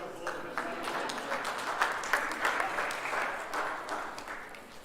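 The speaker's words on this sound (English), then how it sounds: "Big round of applause for Mr." School end-of-term assembly audience claps for a teacher, a steady patter of many hands at moderate distance, fairly soft and even, lasting several seconds without speech over it.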